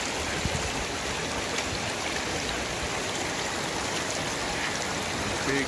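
Fish Creek rushes steadily nearby on a hiking trail, a continuous broadband wash of flowing water with no pauses.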